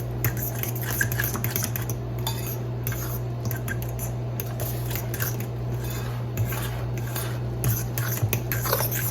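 Kodiak waffle mix is stirred into banana chocolate chip muffin batter in a bowl, a steady run of utensil scrapes and clinks against the dish over a low constant hum, with no talking.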